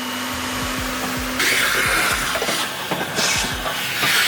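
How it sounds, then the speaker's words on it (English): A Hoover vacuum cleaner on an extra-long power lead hums with a steady motor tone, then swells into a louder, rushing roar with scattered clatter, close by and with no talking. "World's longest lead for the Hoover."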